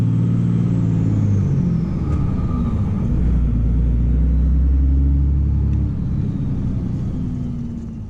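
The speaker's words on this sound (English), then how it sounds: "We're going to go clutch in, second, let the clutch out with a little bit of throttle" A manual transmission truck pulls away in second gear as the clutch is let out with light throttle, a steady loud low engine rumble with faint whine lasting throughout and easing slightly at the end.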